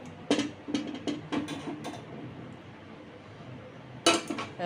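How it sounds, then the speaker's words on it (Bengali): Chilli paneer being served into a bowl, with a spoon or pan clinking and scraping against dishes in a quick run of bright metallic taps, a quiet pause, then a final pair of clinks, close and without talk. "এবার একটা বাটিতে সার্ভ করে দিচ্ছি"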